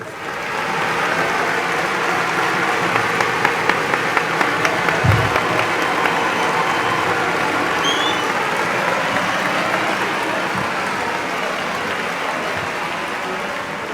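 Audience clapping at a sports hall dedication ceremony, a steady sustained round of applause from a large crowd that continues evenly for many seconds with a brief low thump early on.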